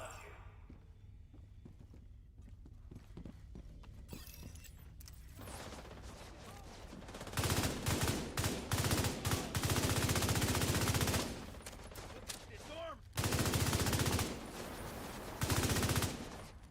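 Rapid automatic gunfire from a weapon in The Division 2, long sustained bursts separated by short pauses, with softer mechanical clicks and a few scattered shots before the heavy firing begins; no one speaks.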